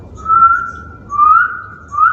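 Three rising whistled notes repeated at a steady pace, clear and close, a human voice imitating a bird's call with no talking.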